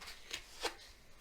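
Tarot cards shuffled in two quick soft riffs, close but faint against a quiet room, with no talking.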